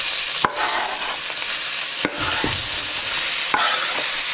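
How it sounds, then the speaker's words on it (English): Onions fry in a generous amount of hot oil for a Hungarian chicken stew, giving a loud continuous crackling sizzle with a few distinct knocks and scrapes of a spoon against the pan. "Now I can add my onions."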